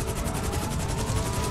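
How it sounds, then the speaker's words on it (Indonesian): Helicopter in the GTA 5 video game, its rotor beating in a fast, steady rhythmic thump with a continuous engine whine, loud and close throughout. "Ketabrak helikopter sendiri, teman-teman."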